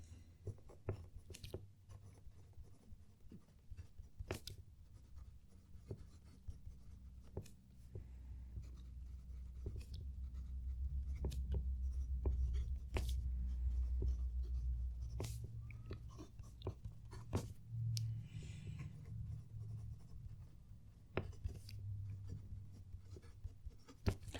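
Fountain pen nib, a Fulton click pen, scratching across paper in short strokes and longer runs, close and quiet, with soft low hum underneath and no talking.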